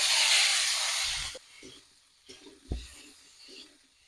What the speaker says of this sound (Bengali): মাছ ভাজার তেলেই আলুগুলো দিয়ে দিলাম।